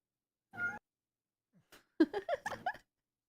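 A cat meows in short separate calls, one brief meow followed after a pause by a quick run of chirpy, squeaky mews, fairly faint against an otherwise silent background.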